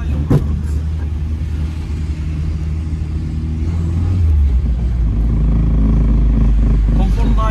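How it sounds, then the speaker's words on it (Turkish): Car engine rumble with a low scraping, rattling drone beneath it as a lowered Tofaş moves, its 51 mm straight-pipe exhaust scraping the car's underbody, growing louder partway through; people talk over it. "Bu ses arkadaşlar, egzoz 51'lik düz boru arabalı tabanına değiyor."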